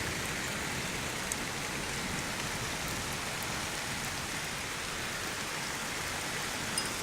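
Steady rain falls during a storm, a dense, even hiss of drops pattering on surfaces without pause, with no voices over it.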